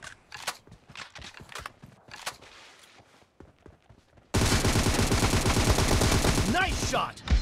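Gunfire in PUBG arena training: a few sharp, sparse shots and footstep-like clicks, then a sudden dense burst of rapid automatic fire that holds loud and close until the end.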